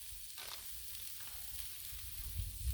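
Aidells chicken burgers sizzle gently on a griddle set just above low, a soft continuous crackle with faint pops and a low background hum.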